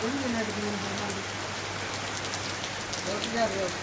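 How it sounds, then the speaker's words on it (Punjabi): Heavy rain pouring down on a farm in Punjab, a loud steady hiss of many drops striking surfaces close by, with faint voices beneath. "ਦੇਖੋ ਮੀਂਹ ਕਿੰਨਾ ਪਈ ਜਾਂਦਾ"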